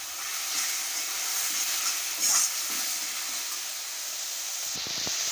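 Butter sizzling in a pan of half-fried onions for a Tamil-style butter potato chicken gravy, a steady bright hiss and crackle that goes on throughout, close up, with a few soft clinks near the end.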